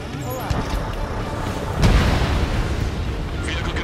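A vehicle explodes in the air-combat game Ace Combat 7 with a single heavy boom near the middle, set over continuous rumbling engine and battle noise, loud and close.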